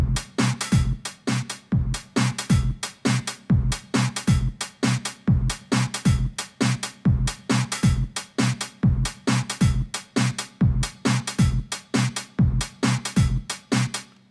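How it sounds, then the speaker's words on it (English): A punchy electronic beat built from sampled pad hits triggered as hot cues in Serato, steady and loud, with a regular driving rhythm and no voices. "used those hot cues to write a little beat"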